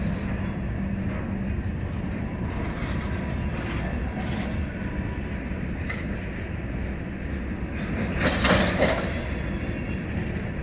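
Freight train hauled by five Norfolk Southern locomotives rumbles past in a continuous low roar, with steady rolling and rattling of cars and a brief louder metallic swell near the end, heard at a moderate distance.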